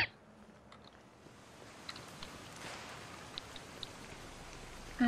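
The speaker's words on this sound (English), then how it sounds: "Outside in the pouring rain." Pouring rain in the video game Contagion, a soft steady hiss of falling water with scattered tiny drip ticks, swelling slightly midway and staying fairly faint.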